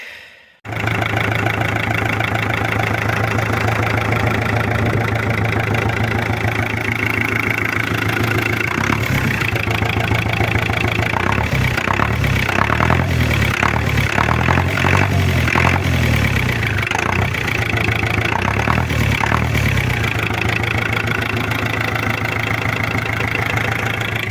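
A tractor engine that had sat unused for a long time idles close by with a steady, low, throbbing rumble, starting abruptly after a brief silence and running continuously, with slight rhythmic pulsing midway.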